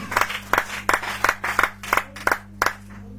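A congregation claps in a steady rhythm during a deliverance and healing worship service, about nine sharp, evenly spaced claps over a sustained low organ or keyboard note, with no voices.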